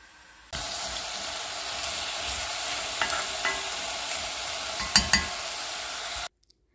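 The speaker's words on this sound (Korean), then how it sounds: "잘 볶아지고 있는지 볼게요." Julienned radish stir-fried in a pan gives a steady close hiss and sizzle, broken by a few sharper clanks and scrapes of the utensil near the end, with no talking.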